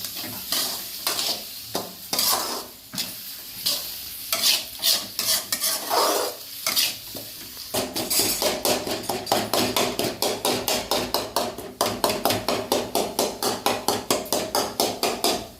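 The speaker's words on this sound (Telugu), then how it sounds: "పెద్ద పెద్ద ముక్కలు లేకుండా చిన్న చిన్న ముక్కలుగా అట్లా మనము కట్ చేసుకోవాలన్నమాట గంటతో" A spatula chops and stirs egg bhurji in a frying pan, starting with irregular scrapes over a sizzle and then settling into a fast, even run of sharp tapping chops against the pan, close and loud.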